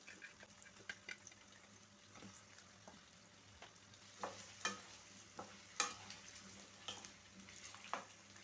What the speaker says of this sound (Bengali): তেল গরম হয়ে গেছে, এবার আলুগুলো দিয়ে দিচ্ছি।